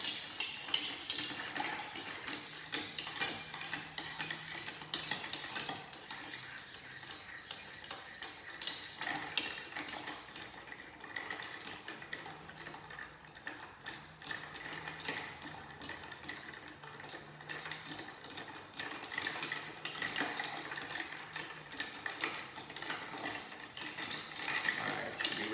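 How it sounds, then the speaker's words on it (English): A cocktail is stirred over ice in a mixing glass, making a steady, continuous clinking and swirling that runs for the whole stretch at an even pace, close and fairly soft, with no one talking. "And we want to give it a nice stir, I'd say for about 45 seconds"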